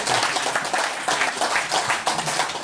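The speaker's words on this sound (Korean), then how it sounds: "큰 박수라도 한번 보내도록 하십시오" An audience at a clan society gathering in Daegu gives a round of applause, dense, even clapping from many hands that carries steadily throughout.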